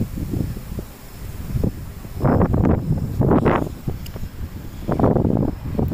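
Gusty wind buffets the microphone in low rumbling bursts, swelling and fading several times, loud and close, with no one talking.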